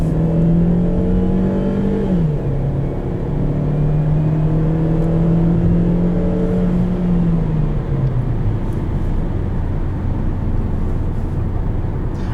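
A 2020 Chevrolet Sonic LS drives along, its engine droning steadily from inside the cabin with a gear change early on and the pitch easing down later over constant road noise.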